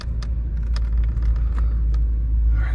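A 1986 Oldsmobile 98 Regency Brougham engine runs while misfiring, heard as a deep, continuous rumble from inside the car, broken by scattered irregular ticks and knocks.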